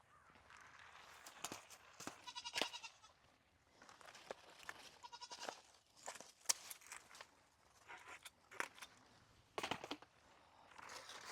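Goats on a small farm bleat repeatedly in short, wavering calls at moderate distance, with quiet rustling and footsteps between the cries.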